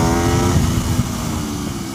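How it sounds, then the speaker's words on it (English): A 2013 Aprilia RSV4R motorcycle, modified for track use, drones loudly and steadily with its engine on track, a dense continuous roar with no voices. "It's a 2013 Aprilia RSV4R"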